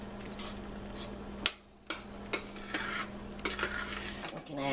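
A spoon stirs grated cheese into creamed spinach in a pan, making repeated metallic clinks and scrapes against the pan over a low hum. One louder knock comes early, then quieter scraping strokes follow.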